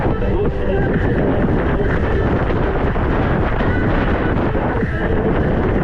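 Wind buffets a microphone at sea on a July boat trip along the Crimean coast near Feodosia and Koktebel. It makes a loud, constant, rushing roar throughout, with faint boat and water noise underneath.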